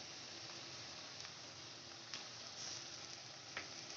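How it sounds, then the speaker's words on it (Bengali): A paste of ginger, garlic and green chilli fries in a pan with a faint, even hiss that holds steady throughout. A few tiny pops rise above it. No one talks. "এখানে আমি আদা রসুন আর কাঁচা লঙ্কার বাটাটা দিয়ে দেব"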